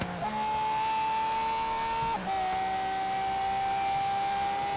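Loud, steady car engine roar from a racing car in Forza Horizon 3, holding a sustained pitch with a brief drop around a gear shift before settling again, continuous and close with no talk.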